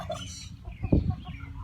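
Chickens in a coop give a few short, close clucks, with one louder burst of clucking in the middle and softer calls around it, and no talk over them.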